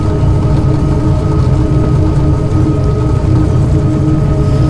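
Steady, loud, continuous engine drone from a train in a train simulator game, a dense low rumble holding level with no pauses and no talk.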